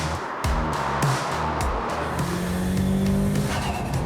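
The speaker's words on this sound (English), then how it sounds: "An interesting sort of wind rushing noise. That's our K&N intake." A tuned Mitsubishi Evo VIII with a K&N intake revs and rushes with loud airy intake noise, tire squeal and shifting engine tones, close and continuous.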